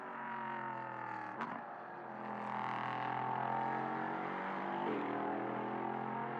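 A Sprint prototype race car's engine rises through a rough, throaty roar with layered harmonics, dips at a gear change, then climbs again as it pulls away onto the Mugello circuit; steady and fairly prominent, no commentary over it.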